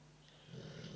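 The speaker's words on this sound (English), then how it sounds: "I have a snoring mastiff." A mastiff snoring nearby, one short low rumbling breath that swells in the second half, heard alone.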